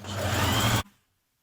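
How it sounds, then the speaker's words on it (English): A sewing machine zigzag-stitches elastic onto leggings in a steady whirring run of under a second that cuts off abruptly, followed by silence. "So we're going to stitch that in now"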